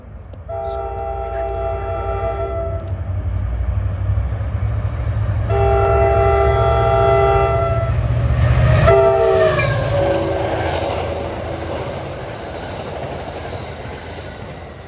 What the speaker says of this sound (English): here comes train 53, Hoboken to Port Jervis.